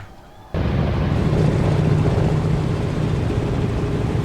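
Four-engine B-17G bomber engines in Microsoft Flight Simulator 2024 cut in abruptly after a brief quiet moment, then hold a steady, loud, dense droning roar with a low throbbing hum throughout.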